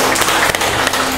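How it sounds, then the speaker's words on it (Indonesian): A dense, loud burst of applause fills a military reform briefing hall at Korem 151, steady clapping from a crowd throughout the moment. "Tepuk tangan dulu."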